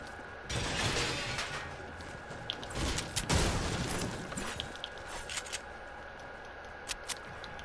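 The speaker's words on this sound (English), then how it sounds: "There's a gunfire come from both sides." Gunfire in the Fortnite video game, with bursts of rapid, crackling shots and a heavier blast in the middle, then scattered single pops trailing off, all fairly quiet and without voices.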